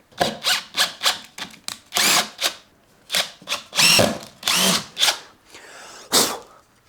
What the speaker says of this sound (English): I'm just going to wind that in and out with a normal Posi 2 drill bit